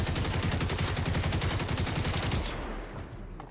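Machine gun fire in a video game rattles in a fast, even burst of closely spaced shots for about two and a half seconds, then cuts off into a fading echo.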